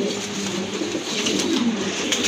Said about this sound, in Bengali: মাশাআল্লাহ আরেক জোড়া ফিলব্যাক কবুতর দেখতে পাচ্ছেন